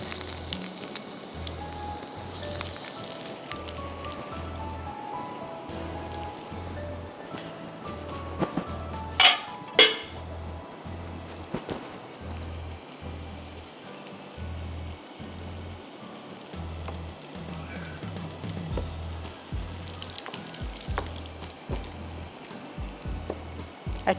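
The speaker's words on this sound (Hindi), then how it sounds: "अब आप इन्हें उठा के और इनको फ्राई करें।" Egg- and breadcrumb-coated chicken kebabs frying in a pan, with a steady soft sizzle and occasional clinks of utensils against the cookware, no talking.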